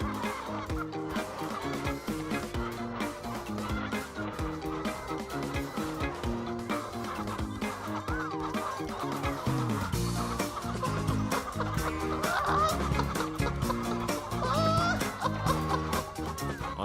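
Many farm-raised chickens cluck and squawk continuously in a dense, busy chorus, with no pauses.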